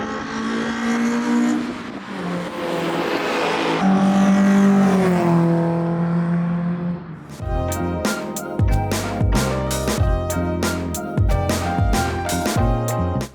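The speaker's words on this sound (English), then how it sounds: "Its party piece though is a set of individual throttle bodies, which meant that this was one of the best sounding cars out on track." A 160 hp track car with individual throttle bodies at Donington Park, its engine rising in a loud howl through the gears, then a sharp, rapid rhythmic revving burst close by as it passes.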